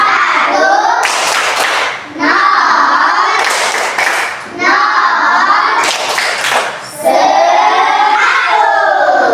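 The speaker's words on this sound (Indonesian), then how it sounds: "Kita tepuk 100" A classroom of children claps together in rhythmic bursts for the winning group, with shouts and cheers rising between rounds of clapping, loud and close throughout.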